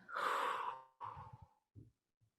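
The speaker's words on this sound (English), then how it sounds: "take a deep breath in through your nose and blow out like a dragon" A slow, deep breath out blown through the mouth after an inhale, loud and close, followed by a few softer breathy puffs fading into silence.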